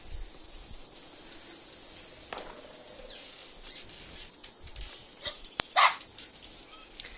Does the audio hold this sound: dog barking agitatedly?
yes